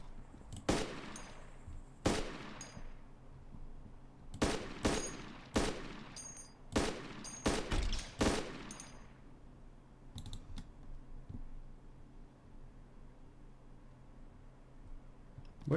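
Gunshots ring out in ArmA 2 DayZ Epoch, sharp single cracks and quick pairs spaced irregularly across the span, loud and close, followed by quieter distant pops toward the end.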